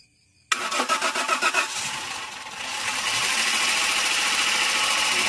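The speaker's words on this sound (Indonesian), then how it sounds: "Running pertama. Oh, langsung lembut mesinnya." A Daihatsu Xenia 1NR VVT-i engine cranks in a quick rhythmic burst after a moment of silence, catches, and settles into a steady, smooth idle, close and loud with no voices.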